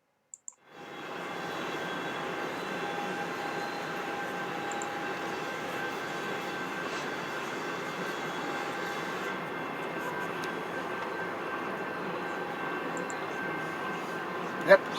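Locomotive 1673 passing, a long steady broadband rumble with sustained engine tones that rises quickly and holds at a constant level for the whole stretch.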